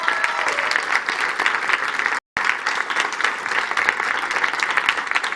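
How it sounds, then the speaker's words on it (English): Strong, continuous audience applause at a youth dialogue on climate adaptation at a COP conference, dense clapping from a crowd that holds steady apart from a brief dropout. "Please, a big applause for her."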